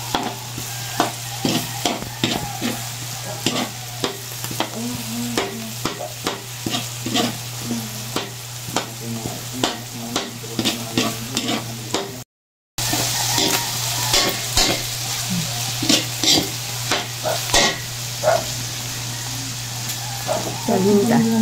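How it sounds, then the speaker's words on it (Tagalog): Onions stirred and fried in a pan while cooking palabok, a steady sizzle broken by frequent scraping stirs of the utensil, with a constant low hum underneath and a brief cut partway through. "Yan, nilalagay na po yung sibuyas. Halo-haloin."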